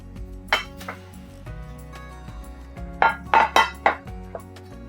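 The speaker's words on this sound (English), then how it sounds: "So now we're gonna put it in our baking dish." Clinking of a utensil or scraper against a baking dish as an oat mixture for Amish baked oatmeal is transferred in an RV kitchen, with a few scattered knocks followed by a quick cluster of sharper clinks.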